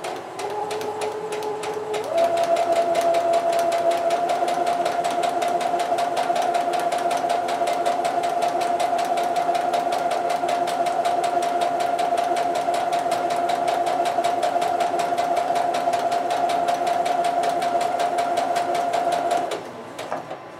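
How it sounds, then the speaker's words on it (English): A sewing machine stitches fabric forward and backward to lock the thread, a loud, steady rapid whirring hum running nearly twenty seconds with a brief slower start and an abrupt stop. "we'll go forward a couple stitches and then back and then forward again, making sure that our thread doesn't get sucked back into the machine"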